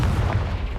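The Confringo spell explodes in Hogwarts Legacy, a short, dense, low booming blast that fills the whole brief moment at steady loudness.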